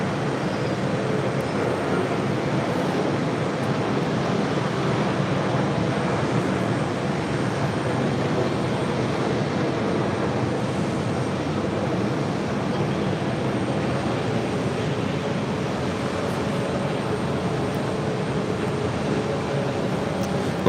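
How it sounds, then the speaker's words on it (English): A JetBlue Airways Embraer E190 jet airliner at JFK gives a steady, broad roar that holds evenly for the whole stretch, loud and continuous with no clear peaks, as of engines running or passing at moderate distance. "It's JetBlue Airways flight 2602, E190 heading to Buffalo"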